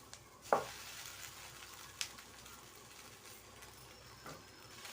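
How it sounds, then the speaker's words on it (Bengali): Onion and green chilli stir-frying for chow mein, a low continuous sizzle broken by a few clinks and scrapes of a spatula against the pan, close and quiet with no voices. "পেঁয়াজকে ভেজে নিয়েছি এবার চাউমিনটাকে দিয়ে দেবো"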